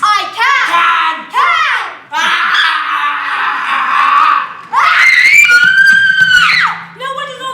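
Child actors scream and yell loudly on stage in a stage production of The Secret Garden, several long shrill shrieks one after another, close and intense, with brief gaps between outbursts.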